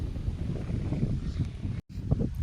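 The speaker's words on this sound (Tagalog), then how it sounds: "Medyo malakas yung hangin, oh." Strong wind rumbles against the microphone in low, uneven gusts, broken by a brief dropout before the buffeting resumes.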